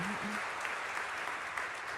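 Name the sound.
applause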